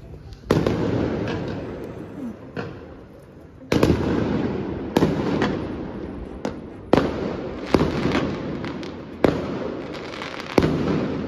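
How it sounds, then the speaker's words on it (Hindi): Repeated loud booming bursts of fireworks crackle and rumble at irregular intervals, celebrating the Ayodhya Ram temple's Ram Lalla arrival day, one after another, with a continuous noisy backdrop between the blasts. "क्या आतिशबाजी"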